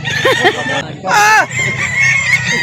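Chickens at a village poultry market in Barangay Sto. Tomas, Calauan, Laguna, with a rooster crowing loudly up close amid clucking birds, a voice murmuring underneath.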